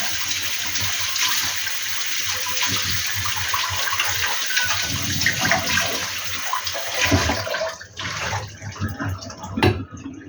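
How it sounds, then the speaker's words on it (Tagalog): A vegetable being washed under a running kitchen tap, with a loud continuous stream of water splashing and shifting as the vegetable is turned, close and steady before easing off near the end, with no talk. "Hugasan ko ulit para ano, mas malinis pa konti."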